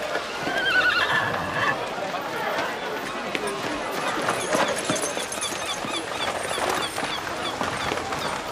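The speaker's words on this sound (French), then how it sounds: "Bien la calèche, Bertuccio, bien." A horse-drawn carriage in a period drama setting, with a horse whinnying near the start and hooves clip-clopping steadily throughout, heard under a busy, fairly loud background with some voices.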